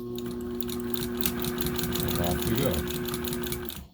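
A sewing machine stitches leather around a right-angle corner, running steadily and close throughout with a brief change in pace at the turn, while a person talks over it.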